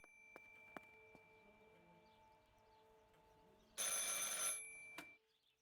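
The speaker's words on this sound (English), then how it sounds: "I should pick up the phone but remain silent." An old landline telephone rings in a horror video game, a loud bright burst of bell tone near the end over a quiet electronic hum with a few faint clicks.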